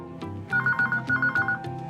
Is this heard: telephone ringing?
yes